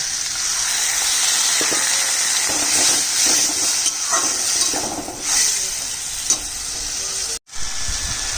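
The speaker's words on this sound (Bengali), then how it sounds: "দিয়ে দিব সামান্য জল।" A little water poured onto spices frying in a hot pan, giving a loud continuous sizzle and steam hiss with stirring clinks that briefly cuts out near the end.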